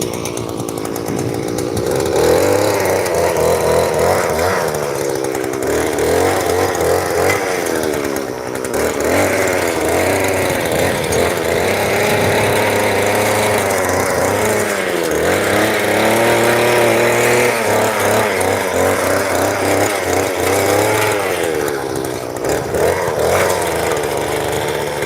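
A garden tiller engine runs steadily and loudly for the whole stretch, a close, continuous rough drone whose pitch wavers slightly as the load changes.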